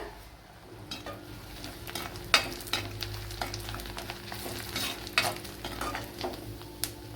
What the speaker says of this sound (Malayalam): ഇപ്പോൾ വെളുത്തുള്ളിയൊക്കെ നല്ലപോലെ ഫ്രൈ ആയിട്ടുണ്ട്